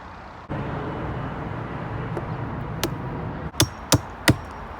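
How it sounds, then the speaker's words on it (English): Nails hammered into a pallet compost bin outdoors, three or four sharp metallic strikes near the end over a low background rumble. "I'm only nailing it because I've actually run out of screws"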